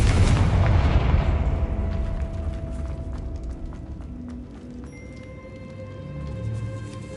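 Loud booming blast from a Confringo fire spell in the Hogwarts Legacy video game, a heavy rumbling explosion that decays slowly over several seconds with no speech.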